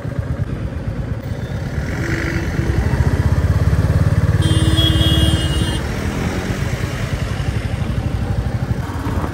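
A Royal Enfield Meteor 350, a 2023 model, runs at a chowk before heading out to the highway: a close, steady single-cylinder thump that swells briefly as it revs and then settles, with traffic sounds around it.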